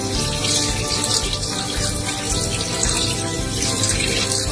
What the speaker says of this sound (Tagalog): Buhusan lang siya ng malamig na tubig.